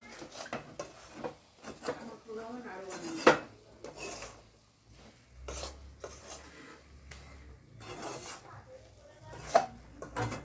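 A coconut and jaggery mixture for coconut naru is stirred continuously in a pan, with uneven scraping and clinking strokes at close range and a few faint voices in the background.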